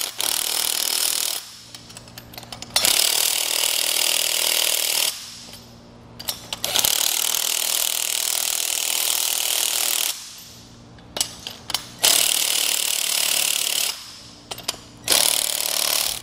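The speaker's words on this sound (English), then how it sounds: "So we'll just work our way around with a 9/16 socket." A ratchet fitted with a 9/16 socket drives U-bolts tight on a Malone MegaSport two-tier kayak trailer. It whirs loudly in three long bursts separated by short pauses, each ending in a few quick clicks.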